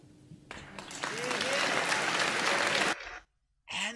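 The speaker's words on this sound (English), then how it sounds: "And there's applause." An audience at a UK town hall event breaks into loud, dense applause that swells and holds steady for a couple of seconds, then cuts off, followed by a brief voice.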